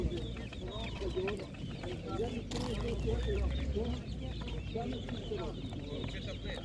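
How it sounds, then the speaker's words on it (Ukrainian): Chickens and a rooster cluck among the bustle of a Ukrainian livestock market, with a voice speaking over the birds. "Ось такий півень лавероль 500 гривень такий"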